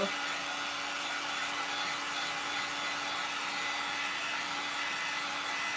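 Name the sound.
drying a craft surface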